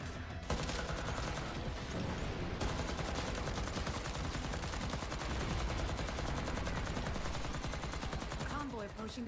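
Rapid, continuous gunfire from a mounted gun emplacement in the video game Warframe, dense and loud throughout, with a person talking faintly underneath.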